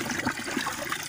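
Water is poured from a container into a bucket of sand and cement being mixed for hollow blocks, a close, uneven splashing gush with small surges.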